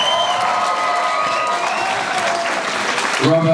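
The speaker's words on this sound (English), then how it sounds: "let's give him another round of applause." Graduation ceremony audience applauding after a singer's performance, a loud sustained burst of crowd clapping with some cheering, tonal sounds drifting over it, and a voice starting to speak right at the end.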